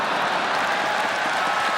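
A fight crowd at a Pride FC Grand Prix event applauds as one dense, steady wash of clapping and cheering, heard alone.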